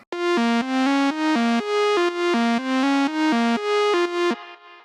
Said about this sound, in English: this sound in Serum is actually a sine wave